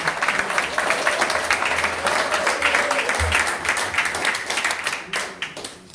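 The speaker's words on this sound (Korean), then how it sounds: "윤석열 대통령 힘찬 환호의 박수로 보내주셔서 감사하겠습니다." A room full of People Power Party supporters at the Incheon campaign committee's disbandment ceremony gives President Yoon Suk-yeol sustained, dense applause, steady and loud for about five seconds before thinning out.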